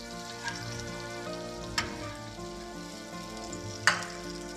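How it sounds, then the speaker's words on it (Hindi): Butter sizzles steadily in a pan for sautéing vegetables beside a finished beef steak, with two sharp clatters of stirring breaking through the continuous frying hiss. "वेजिटेबल को सौते कर लेते हैं, थोड़ा सा बटर ले लेते हैं"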